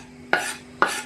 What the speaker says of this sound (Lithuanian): Pilam svogūnus